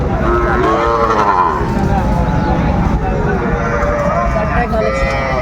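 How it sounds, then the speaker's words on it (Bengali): Cattle low and moo repeatedly amid the dense, constant din of a crowded livestock market at Aftabganj haat in Dinajpur, where young bulls and heifer calves are sold, with people talking throughout. "গরু আরো গরু দেখলাম তো"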